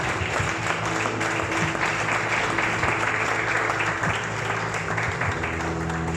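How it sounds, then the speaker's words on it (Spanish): A Spanish-speaking church congregation applauds in one dense, sustained wash of clapping that stays steady throughout, with a low hum underneath. "Aplauda al Cordero de Dios."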